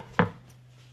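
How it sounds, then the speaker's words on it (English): A single knife chop on a cutting board while preparing ingredients for a smoky bean and barley soup with roasted tomatoes, one sharp close hit followed by quiet kitchen hum. "I am going to start chopping."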